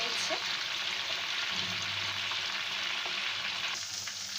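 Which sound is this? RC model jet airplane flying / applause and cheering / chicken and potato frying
chicken and potato frying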